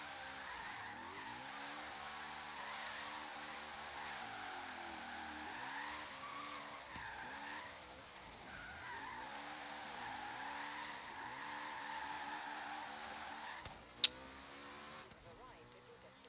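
Car skidding and sliding in the Forza Horizon 3 racing game, a steady engine drone with long, wavering tire squeal across the whole stretch, a sharp click near the end.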